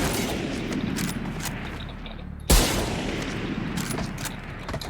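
Rapid gunfire in VALORANT crackles through dense bursts, with one sharp, loud rifle shot from the Marshal sniper rifle standing out midway above the background fire.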